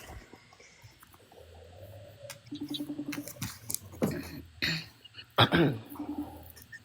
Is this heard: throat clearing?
yes